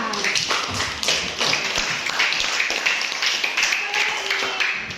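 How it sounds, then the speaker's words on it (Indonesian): Classroom students clap in rhythmic unison for a classmate, sharp close taps with thumps mixed in, while a teacher's voice talks over parts of the clapping. "Tepuk tangan Vanessa."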